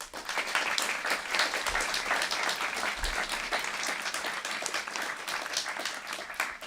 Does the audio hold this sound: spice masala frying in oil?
no